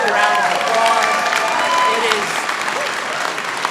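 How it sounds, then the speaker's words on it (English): A large crowd applauds loudly and steadily, with some cheers rising over the clapping, which holds for several seconds. "Let's give her another big round of applause."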